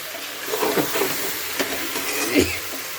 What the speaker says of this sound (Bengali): আর এটাকে একটু নাড়াচাড়া করবো